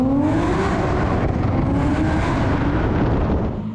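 Nissan Skyline GT-R with an RB30 3.2-litre engine making around 800 whp, accelerating hard with a loud, continuous roar and rising engine pitch, close up and without talk.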